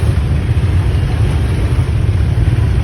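Vehicle engines on a busy road make a continuous, loud low drone, steady and close, without any speech over it.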